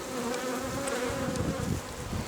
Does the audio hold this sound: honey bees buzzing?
yes